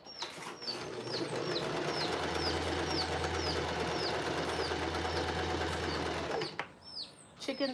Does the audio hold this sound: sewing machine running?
yes